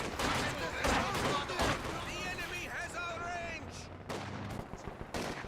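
Rapid bursts of machine gun and rifle fire in the game Company of Heroes 2, several sharp volleys at moderate level mixed with battle effects while a commentator talks over them.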